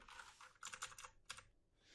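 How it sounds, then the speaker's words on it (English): Computer keyboard arrow keys pressed in a short burst of quiet taps at a desk, a few separate clicks followed by a pause and then one more, with no one speaking. "you can do so with your keyboard arrow keys"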